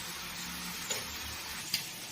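Chicken pieces fry in a pan for a spiced chicken and pulao dish, giving a steady, close hiss of sizzling oil with two brief ticks of stirring and no voices.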